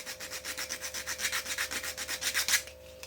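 An old fishing lure being sanded by hand inside a tube lined with glued-on sandpaper, a close, rhythmic scraping rub of about a dozen quick back-and-forth strokes that stops abruptly, with no talking.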